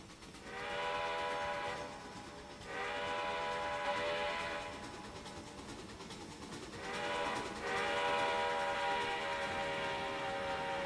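A model railroad train blows its horn for a grade crossing in a layout yard, sounding several sustained chord blasts in a long-long-short-long pattern, fairly loud against a steady rumbling background, with no talking.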